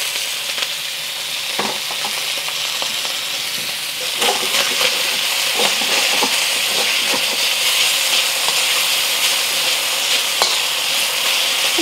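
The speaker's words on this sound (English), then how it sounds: "I'm gonna let it sear for about a minute. You can move the oil around a little bit." Beef sears in hot oil in a wok, giving a loud, continuous sizzle and hiss with scattered pops and scrapes as the oil is moved around, close up and without talk.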